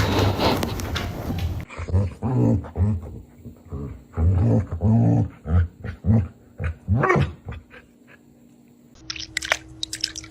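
A jealous dog growls and grumbles in a rapid series of throaty, rhythmic bursts, close and loud, trailing off into quieter sounds near the end with a brief voice-like noise.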